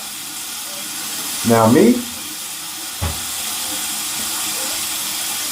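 A razor blade rinsed under a cold running tap, a short rushing burst of water followed by a single sharp knock, with someone speaking briefly.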